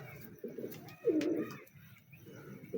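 A pet pigeon coos close by, soft throaty phrases repeating in a loose rhythm with a louder coo in the middle, no voices over it.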